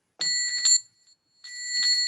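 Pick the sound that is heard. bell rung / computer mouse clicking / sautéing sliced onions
bell rung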